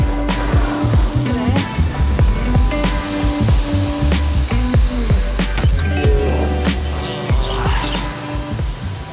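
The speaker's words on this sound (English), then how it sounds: "we are taking a grab ride from here back to Old Town" Grab taxi ride through Phuket, Thailand, a low rumbling cabin drone with repeated bumps and clicks from the road, steady and close, with faint talk underneath.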